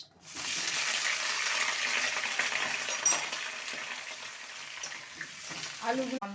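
Potatoes drop into hot ghee and oil and erupt into a loud, bubbling sizzle that settles into a steady fry, with a few light clinks and a brief utensil knock near the end.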